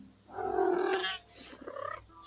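A cat in A Little To The Left making a short, close, rough rumbling vocal sound, then a fainter fluttering purr-like trill after a brief pause.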